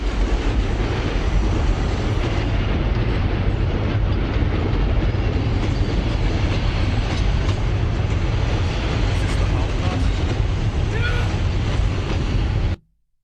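A train rolls past steadily for about thirteen seconds, a dense, loud rumble with rail clatter that holds even throughout, then cuts off abruptly at the end.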